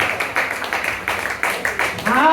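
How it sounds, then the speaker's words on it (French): A church congregation at a Sunday service claps for Jesus Christ: a run of rhythmic, evenly spaced claps, close and fairly loud, with voices talking and calling out over them. "You can clap loud for people of God."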